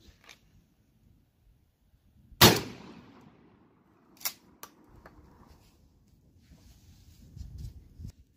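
A Mossberg 535 12-gauge shotgun with an extra-full turkey choke fires one sharp, loud report outdoors at a shooting range, followed by faint clicks and handling noise.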